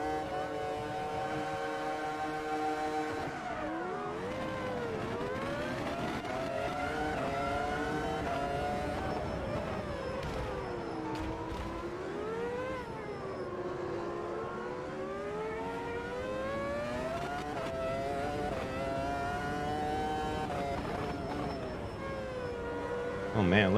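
Formula V10 race cars on the historic Montreal circuit in Automobilista 2, engines screaming and rising in pitch through repeated gear changes, a loud continuous whine with a person talking over it.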